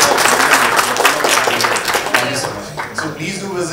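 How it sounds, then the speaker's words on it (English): An audience at a thematic session on Vietnam applauds for the state of Andhra Pradesh, a loud dense wash of clapping that thins toward the end, with some voices mixed in. "a round of applause for the state of Andhra Pradesh"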